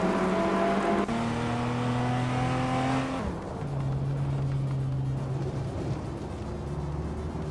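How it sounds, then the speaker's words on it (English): A 1987 Buick GNX in a racing game drones with a loud, steady engine note that shifts pitch as gears change midway, with other cars roaring close around it and no talk. "Maya is currently in 10th place with a 1987 Buick GNX"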